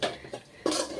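A spoon scrapes and clinks against a large pan while onion masala for a pappadam curry is stirred, with two short strokes followed by a louder, longer scraping stir, close by and without talk.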